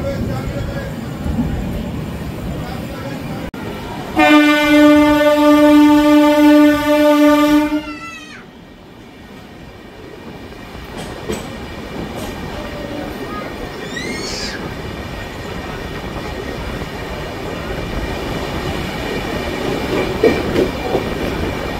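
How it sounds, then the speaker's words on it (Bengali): Digha–Howrah Kandari Express pulling out of Tamluk station: a loud blaring horn blast of a few seconds, then steady rolling rumble and clatter as the train gets under way, with speech around it. "ট্রেন আমাদের ছেড়ে যাচ্ছে তমলুক স্টেশন।"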